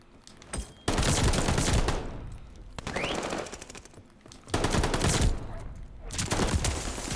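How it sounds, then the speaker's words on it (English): Automatic gunfire from a Call of Duty Vanguard multiplayer match, with MP40 and Automaton weapons in play, comes in loud bursts of rapid shots separated by brief pauses, close and dense, with no speech over it. "Who's shooting me?"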